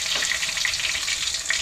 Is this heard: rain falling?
no